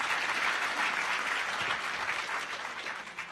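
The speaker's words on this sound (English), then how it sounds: "let's just give them a quick round of applause for the amazing work they did" Audience applause at a closing ceremony, a dense wash of clapping from a crowd that swells briefly and then gradually fades out.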